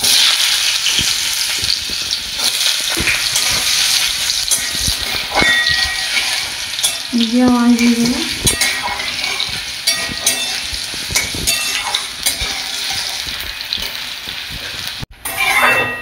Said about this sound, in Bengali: এবার আলুগুলো দিয়ে দেবো ভাজার জন্য।